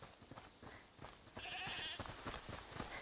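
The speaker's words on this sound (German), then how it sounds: "Hört mal, ist das die Ziege, die er meinte?" Goat bleating in the video game A Plague Tale Requiem, a few short bleats mixed with footsteps and ambient game sounds, fairly faint.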